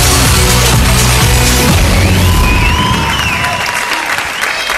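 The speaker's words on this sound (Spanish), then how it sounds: "El aplauso para aduana." A live televised singing talent show audience applauds a contestant, loud sustained clapping and cheering filling the hall, easing slightly toward the end.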